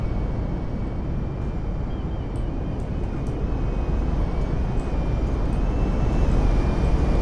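An airplane comes in to land in GTA 5, a steady loud engine roar and rushing wind that holds and slowly swells, with no voices.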